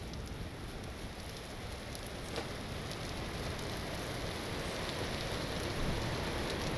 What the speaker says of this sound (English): I just don't like being in the rain all the time.